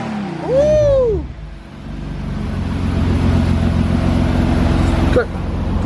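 A BMW M3 drift car engine revs up in one rising and falling burst, then settles into a steady, loud idle rumble with a short blip near the end. Voices talk over it.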